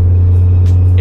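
A 2014 Ford Focus ST fitted with an aftermarket exhaust drones under throttle: a loud, steady, low booming hum runs unbroken through the whole moment, with a brief faint hiss near the end.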